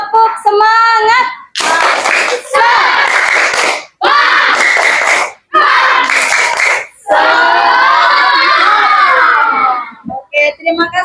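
Schoolchildren in a classroom chant a clapping cheer together, loud group voices and rhythmic hand claps in several bursts with short pauses between.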